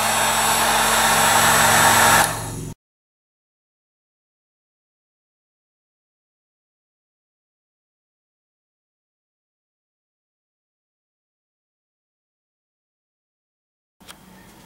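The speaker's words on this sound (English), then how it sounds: "let's go ahead and heat that up with our heat gun" A heat gun blows with a steady, fan-driven roar while shrinking heat shrink tubing on wires, lasting only a couple of seconds before cutting off abruptly into silence.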